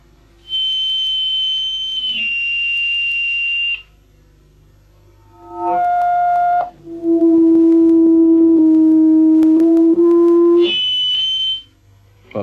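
Controlled acoustic feedback through a loudspeaker produces sustained single-pitch tones, loud and steady, that hold for a few seconds each and shift between high and lower pitches in a series of separate howls.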